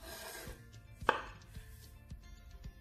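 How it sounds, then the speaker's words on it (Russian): A single sharp knife chop through napa cabbage cuts into a quiet room, followed by a few softer taps on the board. "Берем пекинскую капусту, разрезаем пополам и нарезаем мелко."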